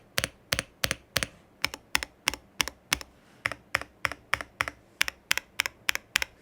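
Typing on a Yunzii AL80 mechanical keyboard with a deep, thocky tone, about twenty crisp keystrokes in a fairly steady rhythm, close and clear with no talking.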